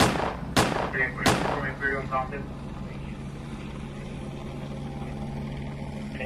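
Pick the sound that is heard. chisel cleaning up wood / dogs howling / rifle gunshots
rifle gunshots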